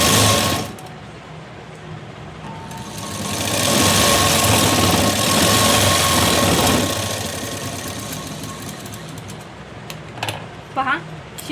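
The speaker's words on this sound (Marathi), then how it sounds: "इथे आता अर्धा इंच मार्जिन जे आहे ते ठेवून आपण इथं शिलाई देऊन घेऊया." A sewing machine stitches a blouse sleeve, its motor running in a steady fast whir that swells louder in the middle and then eases off, with a few clicks at the end and a voice talking over it.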